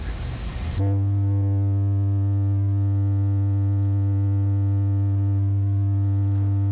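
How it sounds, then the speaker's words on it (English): A steady synthesizer tone holds after a brief noisy start, loud and unbroken for about six seconds with no talk over it. "That's a basic sine wave."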